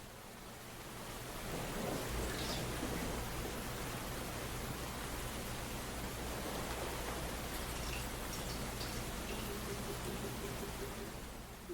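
Rain falling in a steady, soft, even hiss that continues without a break, moderately quiet and with no voices.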